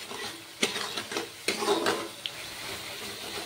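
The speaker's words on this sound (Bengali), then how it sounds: "এবার মশলাটাকে ভালো করে কষিয়ে নেব" Spice masala with coriander powder is stir-fried in a pan for a pointed gourd and prawn dish, giving a faint, soft sizzle with a few scattered scrapes and taps from stirring, and no talking.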